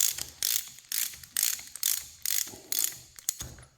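Plunger plugs being tightened on a John Deere 4020 hydraulic pump during a rebuild: a close, loud run of repeated ratcheting bursts, roughly two per second, each a sharp clicking ratchet sweep with brief pauses between.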